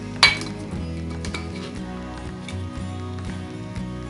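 A lid is set onto a glass jar of preserved onions, giving one sharp clink at the start, followed by a few faint glassy taps and handling sounds. No one speaks.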